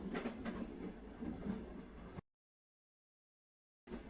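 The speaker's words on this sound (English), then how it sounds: "As the train hurtles towards my destination." A train travelling on rails, a muffled rhythmic rumble with faint clicking for about two seconds, then sudden silence before the rolling sound cuts back in briefly; fairly quiet overall.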